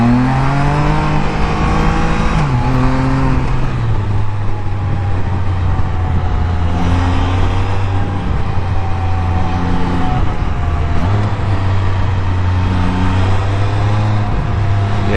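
A Can-Am Spyder F3 three-wheeler accelerates in first gear, its engine droning loud and steady with rising and falling harmonic tones as the revs climb, drop at a shift and climb again, heard close and continuous.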